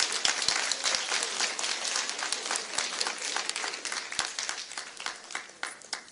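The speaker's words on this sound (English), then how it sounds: "So just give them one more round of applause." An audience at a school board meeting applauds, loud at first, then the clapping slowly thins and fades across several seconds.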